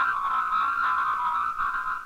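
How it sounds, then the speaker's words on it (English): Time-compressed, squeezed telephone speech from an old communications demonstration, a continuous chirpy, warbling nasal babble in a narrow telephone band, unintelligible and steady for about two seconds with no other sounds. "A squeezed message sounds like this."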